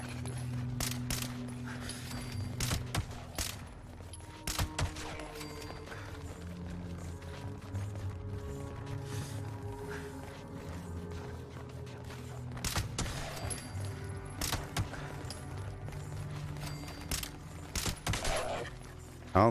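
Repeated gunfire from an Instigating Fixer rifle in Fallout 76, sharp shots in bursts and singles across the whole stretch over a steady low game hum.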